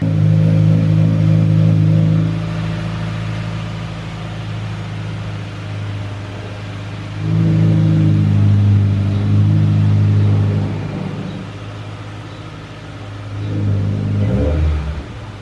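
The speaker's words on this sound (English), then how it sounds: "So I'm gonna move my car." A Subaru WRX engine idles with a steady low rumble and revs up in three swells as the car is moved, loud and close with no talk.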